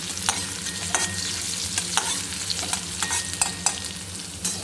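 Onions frying in a pan for a pumpkin curry sizzle steadily and densely, with frequent light scraping stirs of a spatula on top, close and without any voices.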